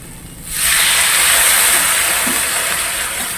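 Water poured into a pan of frying vegetables and small crabs bursts into a loud, steady hiss of sizzling steam that starts abruptly and holds close and strong to the end, with no voices.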